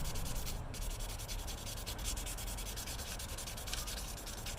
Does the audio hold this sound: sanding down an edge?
yes